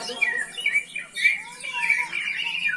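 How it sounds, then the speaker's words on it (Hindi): Birds chirp and whistle in a busy, continuous chatter of close, high calls, with no talking. "पार्वती देखो पक्षी आ गए"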